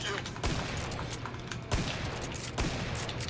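Gunfire in a tense confrontation, with repeated sharp bursts of shots at irregular intervals, three stronger reports standing out over a noisy, dense background, loud and close, with voices faintly mixed in.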